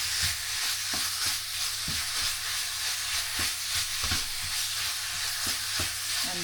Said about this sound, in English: Sauteing with this, and then make sure that you mix well with the garlic and onion.